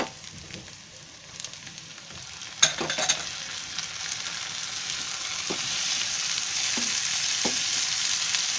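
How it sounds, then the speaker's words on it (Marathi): Onion and cashews fry in a pan for a shahi mushroom masala; a steady, building sizzle with scattered clicks and scrapes of stirring, close and continuous with no talk. "आता कांदा भाजून घ्यायचा आहे. बघा मस्त भाजला आहे."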